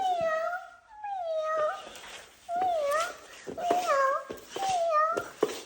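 A young child imitates a cat, producing a run of high, sliding meow calls in short bursts with brief pauses between them, close to the listener.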